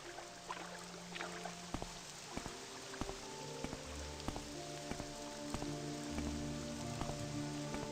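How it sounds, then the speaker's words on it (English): Steady rain falls in the video game Morrowind, a continuous close patter on surfaces sprinkled with sharper individual drops, with a faint low background hum and no voices. "Ooh, it's raining, too."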